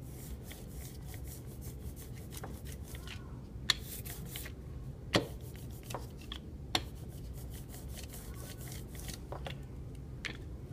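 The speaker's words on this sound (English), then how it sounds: "I'm going to roll this, and if you can hear, it sounds a little bit like Velcro." An ink roller rolls over an inking surface while preparing a styrofoam print, giving a continuous tacky, crackling rasp like Velcro peeling, with a few sharp clicks scattered through it.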